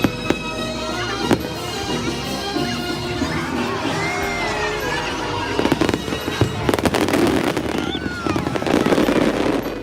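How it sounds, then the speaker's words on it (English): A theme park fireworks show at a Disney park, with continuous crackling bursts and sharp bangs, some loud and near, over steady crowd noise and faint voices. "it was definitely really cool to see that fireworks show since they only do it twice a year"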